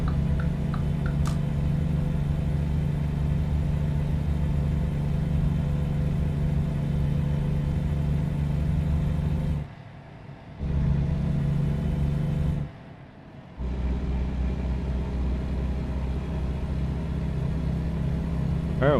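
Heavy truck engine in American Truck Simulator drones steadily and loud on a low, constant rumble, cutting out briefly twice before resuming, while driving out of Phoenix toward Tucson.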